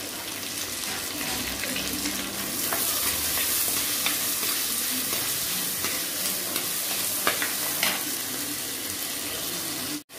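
Steady, close sizzling of salted onions sautéing in a pan for fish curry, with occasional stirring scrapes throughout and a brief clunk at the very end.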